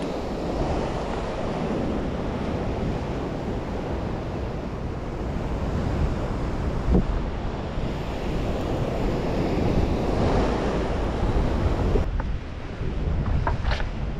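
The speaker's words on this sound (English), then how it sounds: "The sound of ocean waves and birds with breathtaking views from the pier is unforgettable." Ocean surf rolls in steadily beneath a Florida fishing pier at Pompano Beach, with loud wind buffeting the microphone throughout and no voices.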